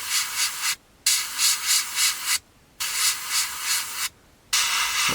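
Filler on the underside of a 1/48 scale A-4M Skyhawk model fuselage is sanded in three bursts of quick back-and-forth rasping strokes, each separated by a short silent pause, close and fairly loud.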